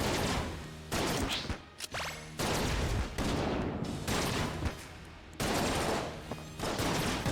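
Rapid video game gunfire from Enter the Gungeon, dense bursts of shots and blasts in loud, sustained volleys broken by short pauses, with crashes and whooshing effects and no talking.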